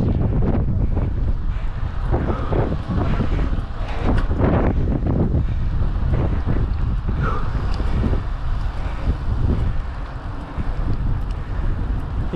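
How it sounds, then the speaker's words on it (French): Strong wind buffets the microphone in loud, gusty bursts on a road bike ride, with a roaring, rumbling texture that rises and falls. "Il y a du vent aujourd'hui, c'est terrible."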